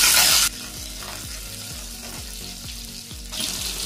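Onions and green chillies stirred while frying in a pan for a beans fry, with a steady loud sizzle and a regular rhythm of spoon scrapes about every half second, hissing stronger at the start and end.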